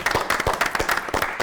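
Audience applause at an Innovation Hub program, steady clapping from many hands throughout the short stretch, fairly close and even, with no talking over it.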